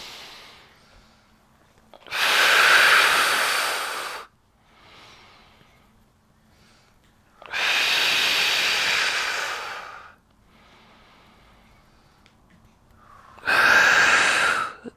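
Three long, strong breath exhalations during a Pilates exercise, each a breathy rush lasting a couple of seconds, separated by quiet pauses with faint inhales.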